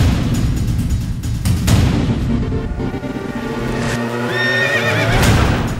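A horse whinnies loudly up close while hooves clop against a background of steady rumbling ambience, the neigh rising in a wavering call near the end.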